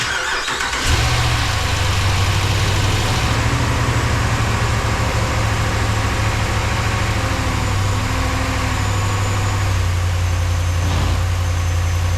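A Ram 1500 pickup truck engine, with a repaired exhaust manifold leak, cranks and catches, then settles into a loud, steady rumbling idle that continues throughout.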